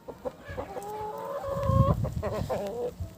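Roosters crow and cluck nearby in a short burst, with a drawn-out crowing call in the middle and rustling farmyard noise underneath.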